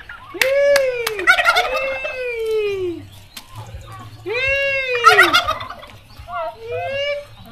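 Loud, rapid gobbling from turkeys close by, several rattling calls in overlapping bursts, with a low hum faintly underneath.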